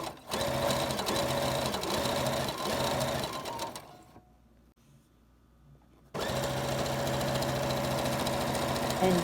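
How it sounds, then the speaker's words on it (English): Sewing machine running a basic straight stitch along a folded, pinned hem of a long skirt, a steady close rhythmic whir that pauses briefly for a few seconds of near quiet, then resumes at full speed. "go back to your machine, and where you folded it down and pinned it, you would just want to sew right on top"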